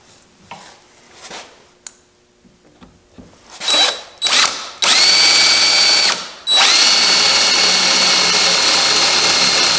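A drill bores an axle hole through wood for a shop or camp stool: soft handling knocks first, then short revving bursts, then two long steady high whines of drilling close by.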